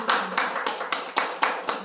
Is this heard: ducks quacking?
no